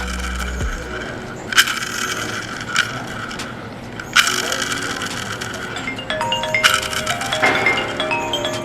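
A G&G ARP9 airsoft gearbox, freshly shimmed, spins with a rapid ratcheting gear whir, punctuated by a few sharp clicks and bursts of mechanical rattling close up.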